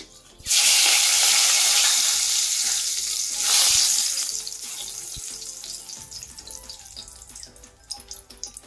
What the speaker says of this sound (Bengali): এই তেলের মধ্যেই আমি দিয়ে দেবো ফোড়ন, দিয়ে দেবো দুটো তেজপাতা, দারচিনি আর দুটো এলাচ